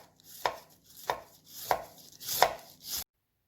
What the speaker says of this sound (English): First I'm going to slice the cabbage.